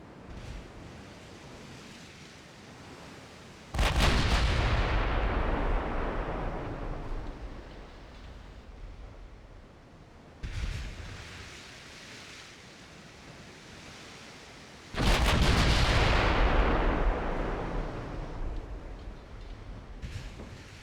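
Warships fire naval guns in the game Ultimate Admiral Dreadnoughts, heavy booming salvos that roll off into long fading rumbles, three big blasts over a constant sea-like background wash.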